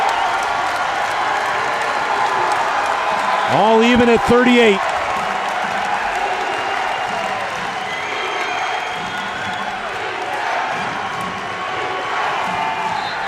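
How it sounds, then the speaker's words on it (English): A loud, sustained roar fills the arena at a tied college basketball game between Kent State and Bowling Green, with a whistle cutting through, while an announcer talks over the dense crowd noise. "The crowd's too loud."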